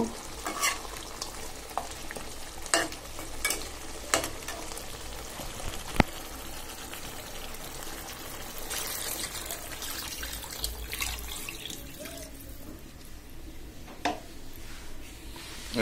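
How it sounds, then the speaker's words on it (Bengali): Gravy is poured into a frying rui fish head curry, setting off a busy, watery sizzle with repeated clattering stirs of a spoon against the pan, steady and close throughout, with no speech. "এবার আমি ঝুল দিব।"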